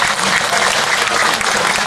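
Dense, steady applause from an audience at an Islamic boarding school gathering, a continuous clatter of many hands at even loudness throughout, with no pauses or talk over it.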